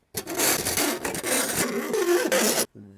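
Hand sawing a workpiece clamped in a vise, a steady broadband rasping run of strokes that fills most of the clip, close and loud, then stops abruptly with a faint tonal tail at the end.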